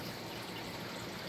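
Pond water pushed by a pump runs down through a garden creek, a steady, full rushing gush with no breaks, close and unbroken.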